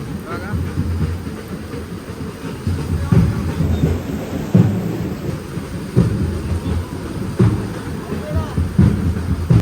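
Heavy rain roars steadily over a football match while deep rumbles of thunder roll in repeatedly, with voices faintly audible underneath.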